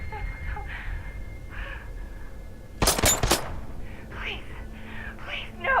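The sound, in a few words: gunshots in the video game Batman: Arkham Knight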